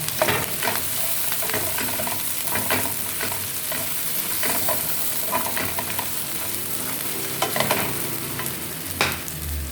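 Food being stirred and fried in a pan with okra and other ingredients, steady sizzling hiss under repeated scraping strokes of a utensil, close and fairly loud, no talking.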